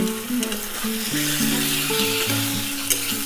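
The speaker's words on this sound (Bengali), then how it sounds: "কাঁকড়াটাকে আবারও আমি ভালো মতো কষে নেব" Crab pieces frying with spices in a pan, a continuous close sizzle under stirring, with a faint tonal hum or background music running underneath.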